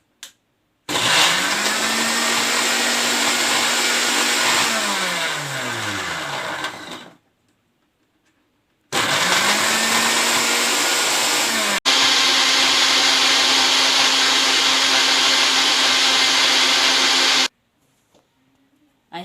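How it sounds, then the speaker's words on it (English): A countertop blender whirs through a leaf of aloe vera, loud and close, its motor spinning up, running steadily, cutting off, then starting again for a second long continuous burst before stopping. "So we'll blend the aloe vera so that we may get the gel, or we make it in liquid form."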